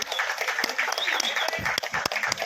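A packed hall applauds a film crew at a music launch event: sustained, crisp clapping from many hands with sharp individual claps popping out, close and lively throughout.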